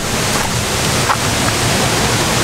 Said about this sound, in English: we have made it to the waterfall